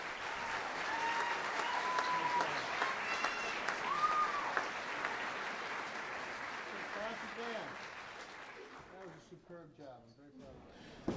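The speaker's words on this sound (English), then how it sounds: "Give them another round of applause, would you please?" Sustained audience applause after a school concert band's performance at a winter concert, dense clapping filling the hall for most of the stretch before thinning out, with some crowd voices mixed in.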